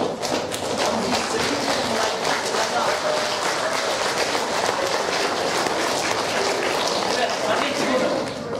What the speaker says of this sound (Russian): Да, это вполне достойно аплодисментов.